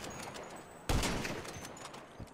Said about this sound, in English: And then if you shoot it more,